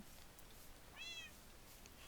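A single short cat meow in the Minecraft video game, fairly faint against a soft steady background, with no one talking.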